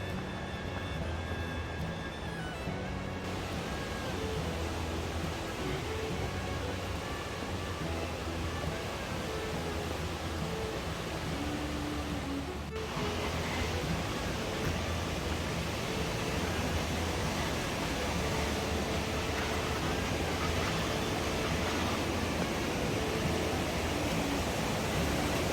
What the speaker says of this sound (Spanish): Aquí ya estamos caminando hacia el estrecho del río Magdalena